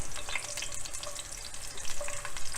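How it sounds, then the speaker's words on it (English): Steady crackling sizzle of water hitting hot oil in a pan, with bright spitting pops throughout, close by and moderately loud, no voices. "And if you hear it sizzle, then it's ready for us to add."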